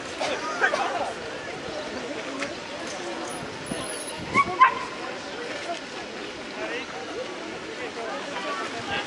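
Puppy at a mountain bike marathon event, giving small yips and whimpers mixed into busy outdoor background, with people talking nearby.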